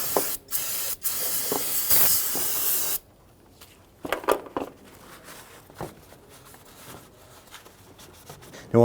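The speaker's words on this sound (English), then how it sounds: "we're going to use some spray solvent to clean up any residual fluid here." An aerosol can of solvent sprays in a few short bursts and then one long steady hiss, cleaning power steering fluid on a 2008-2013 Infiniti G37, followed by faint clicks and handling noises.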